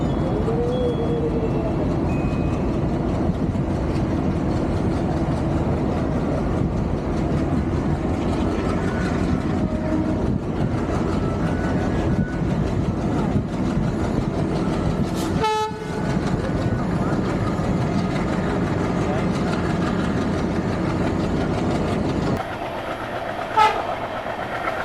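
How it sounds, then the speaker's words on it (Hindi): A passenger train on a rural Bihar line rolls into Nirmali railway station with a constant rumble and clatter of wheels, then a loud horn blast, a brief drop in noise, and a second horn near the end. "तो अपनी ट्रेन पहुंच रही है निर्मली रेलवे स्टेशन"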